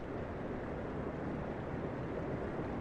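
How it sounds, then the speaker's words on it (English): Cave water sounds play back from a sampler as a faint, steady wash of low rushing noise with no distinct drips or other events over the short stretch. "And this is just the cave water noises."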